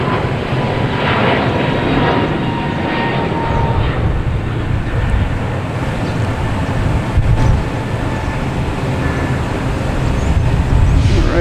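An American Airlines Airbus A321neo bound for Miami roars past at Boston Logan Airport, a steady loud broadband jet engine rumble filling the whole stretch without talk.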